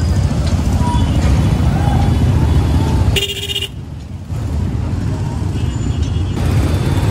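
Steady road traffic rumbles loudly and continuously on a Philippine street, with a brief lull midway and faint tonal touches like distant horns.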